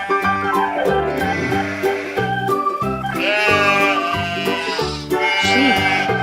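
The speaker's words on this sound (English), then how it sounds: "Sheep." Sheep bleat repeatedly over cheerful background music in a children's animal learning game, with wavering calls rising and falling close up.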